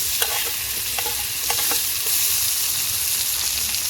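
Chopped tomato goes into onions already fried reddish in a pan for a pointed gourd and prawn dorma. A dense, close sizzle continues throughout, broken by several clattering stirring clicks early on.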